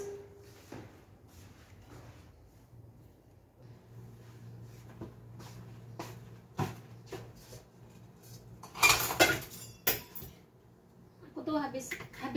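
Dishes and cutlery clink and knock in a kitchen in Riyadh during tidying after cooking, with scattered clatters, a loud cluster of impacts near the middle and more rattling at the end, under a low steady hum.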